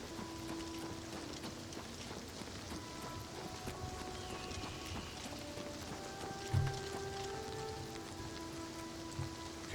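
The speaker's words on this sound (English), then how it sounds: "It's raining. It's not supposed to rain up here." Rain falls steadily in the game Oblivion Remastered, a soft, quiet patter spread evenly across the scene, with faint tones and a brief thump partway through.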